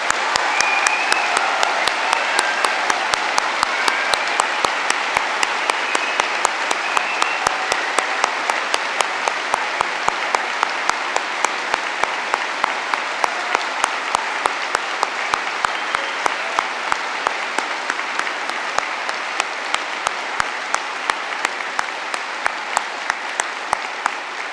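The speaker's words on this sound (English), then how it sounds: "huge round of applause" Sustained applause from families and staff welcoming graduates at a London university degree ceremony, a steady, dense roar of many hands clapping that continues evenly for over twenty seconds without talk.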